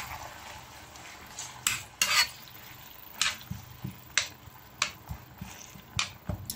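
Rabbit pieces, marinade and small tomatoes cooking in shea butter, with a spoon stirring and clinking against the pot in irregular bursts over a soft, steady background hiss.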